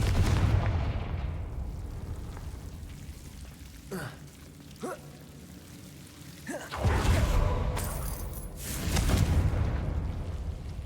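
Confringo fire-spell blasts in the Hogwarts Legacy video game, heavy booming explosions with rumbling tails, a couple of sharp cracks in between, loud and close over ambient game sound.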